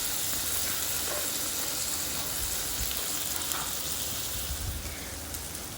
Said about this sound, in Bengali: আর এইদিকে দেখো আমি আলুগুলোও ভাজতে দিয়ে দিয়েছি